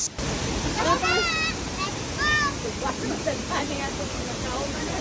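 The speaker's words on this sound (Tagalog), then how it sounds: "Napakaganda ng falls dito." Steady roar of Cedar Falls in Impasug-ong, Bukidnon, a broad, continuous wash of falling water close by, with faint voices and chirping calls rising briefly over it.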